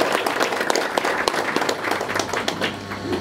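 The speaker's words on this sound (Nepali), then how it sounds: "तपाईँहरूलाई उहाँको लागि पनि एकचोटि ताली बजाइदिन म अनुरोध गर्छु" An audience applauds a speaker at a political talk on Nepal's constitution, with dense, steady clapping filling the whole stretch at moderate loudness and no voice over it.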